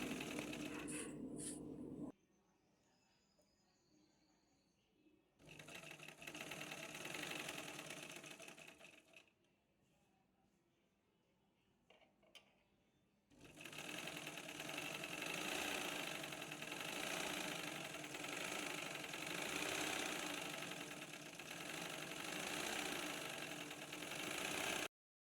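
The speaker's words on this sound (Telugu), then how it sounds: "ఇలానే మొత్తం అయితే కుట్టేసుకుంటున్నాను." A sewing machine stitches a lined blouse in several separate bursts, a steady rapid mechanical whir that starts and stops, with quiet pauses between runs and the longest run at the end.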